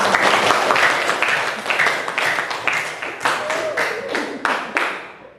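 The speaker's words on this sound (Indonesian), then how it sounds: "Tepuk tangan untuk kita" Students in a classroom applaud together, the claps landing in a loose, patterned rhythm that stays fairly loud and close, with a brief voice rising through the middle.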